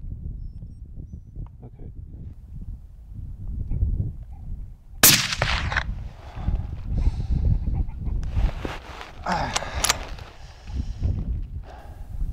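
A single sharp, loud rifle shot cracks out during red deer hind stalking on an Angus hillside, followed by rustling outdoor noise and movement close by.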